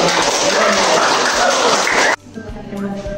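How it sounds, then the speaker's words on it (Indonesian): Dense, loud applause from a group in a classroom during an open-class lesson session, steady for about two seconds before cutting off abruptly into quieter room sound. "Tepuk tangan terus."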